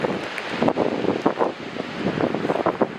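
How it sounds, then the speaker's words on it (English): Strong wind roars steadily across the microphone, with repeated gusty bursts and low rumble throughout, no voices. "It's very, very windy out here."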